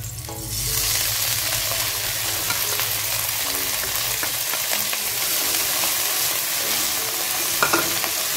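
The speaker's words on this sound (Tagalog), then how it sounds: "Then, isusunod natin yung ating repolyo." Cabbage stir-fried with tuna in a pan, a loud, steady sizzle and crackle with scraping stirs running without a break.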